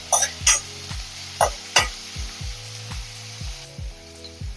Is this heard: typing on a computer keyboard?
no